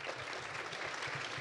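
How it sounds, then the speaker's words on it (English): Brief burst of dense applause from an audience at a talk on thriving through tough times, steady and fairly loud throughout the short moment. "Big round of applause."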